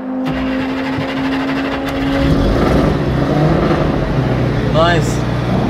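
A Mercedes-Benz car in a museum setting starts up with a brief whirring crank, then its engine catches and settles into a loud, steady idle with a rising rev, close to the microphone.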